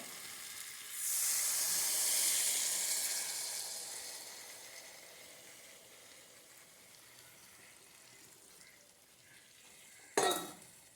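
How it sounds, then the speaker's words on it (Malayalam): Reserved water poured into a pan of gooseberry pickle sets off a loud hissing sizzle that swells, then slowly fades to a quiet simmer, ending with a sharp clack of utensil on pan. "നമ്മൾ ഇതൊന്ന് മാറ്റി വെച്ച ആ വെള്ളം കൂടി ഇതിലൊഴിച്ച് കൊടുക്കുകയാണ്"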